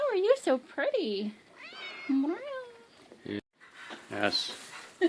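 A stray cat meows several times close by, its cries rising and falling, while someone talks to it softly in between.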